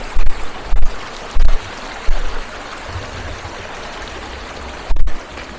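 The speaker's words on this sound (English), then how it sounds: "there's still water flowing from it" Constant rushing flow of a stream in Gircha village, Gojal, Hunza, broadband and steady, broken by several low thumping bumps of wind or handling noise against the mic.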